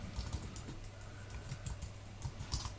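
Typing on a Mac keyboard, a steady run of soft, quick keystrokes at close range with no voices.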